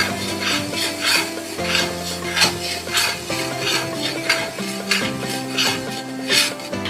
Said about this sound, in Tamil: இந்த மசாலாவோட கலர் சேஞ்ச் ஆகி பச்சை வாசனை போகிற வரைக்கும் வதக்குங்க